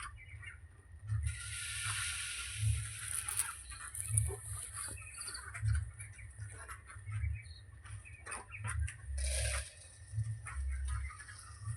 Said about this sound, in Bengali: ওইদিকে আরো মুরগি আছে।